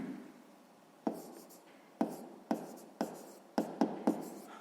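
Pen scratching across paper during a sixth-grade maths exercise, with a faint steady scratch broken by about seven sharp taps and strokes spaced over a few seconds, near and alone.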